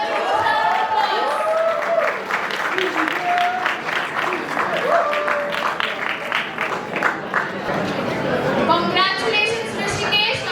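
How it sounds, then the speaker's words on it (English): A crowd at an international startup competition applauds a prize winner, sustained clapping with cheers and chatter on top, while a voice on the public address speaks over it and several people talk nearby. "Give her a huge round of applause"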